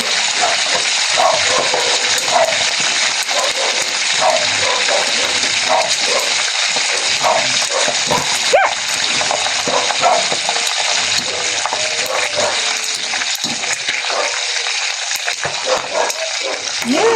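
Food sizzles and crackles in a hot pan for a long stretch as boiled pork for sisig fries, a constant frying hiss with occasional stirring scrapes.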